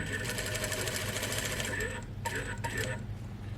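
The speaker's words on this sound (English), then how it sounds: "This is now the center front I'm sewing." A sewing machine runs steadily, stitching the center front of a lined overgarment, with a close continuous whir that briefly dips before resuming, and someone talking over it.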